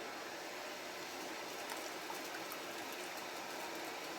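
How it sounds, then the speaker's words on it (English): Water heating toward a boil in a large water bath canning pot on a stove, a steady broadband hiss and rush with faint bubbling crackles, continuous and fairly close. "lift this up and see how close we are to the water boiling."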